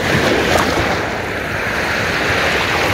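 Wind and sea waves at an uninhabited island off Mindoro during a fishing trip, a loud continuous wash of surf and gusting wind buffeting the microphone, no voices.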